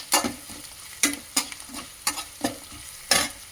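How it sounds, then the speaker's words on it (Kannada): Puffed rice mixed with turmeric being stirred in a pan, about eight crisp, rustling scrape strokes at a loose, uneven rhythm, close and fairly quiet with light sizzle between, no voices. "ಸ್ವಲ್ಪ ಅರಿಶಿನ ಪುಡಿಯನ್ನು ಹಾಕಿ ಮತ್ತೆ ಹಿಂಗೆ ಮಿಶ್ರಣ ಮಾಡಬೇಕು ಎಲ್ಲದನ್ನು"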